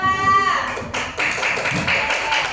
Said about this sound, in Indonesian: Beri aplaus dulu untuk kelompok 2.